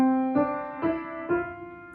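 Three connected legato notes played smoothly on an instrument, each new pitch sliding out of the last with steady sustained harmonics, moderately loud and heard alone with no voices.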